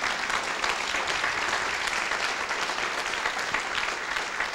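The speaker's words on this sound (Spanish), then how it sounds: "Denle un aplauso para que la gente vea que sí están acá." Congregation at a church service applauding, a dense steady wash of many hands clapping at even loudness throughout with no voices rising above it.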